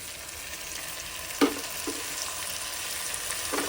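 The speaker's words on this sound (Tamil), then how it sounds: "தக்காளி கூடவே நம்ம நறுக்கி வச்சுருக்க பச்சை மிளகாய் போட்டு நல்லா வதக்கலாம்" Vegetables, tomatoes and green chillies, sauté in a hot pan with a steady sizzle, a sharp clink of a utensil and a few stirring scrapes standing out.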